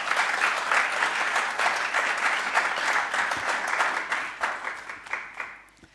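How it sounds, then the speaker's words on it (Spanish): Audience applause welcoming a speaker to the stage at a talk on post-abortion trauma: steady, dense clapping from a room full of people lasting several seconds, then fading out at the end. "bienvenida Leire, la cogemos con un cariñoso saludo y aplauso"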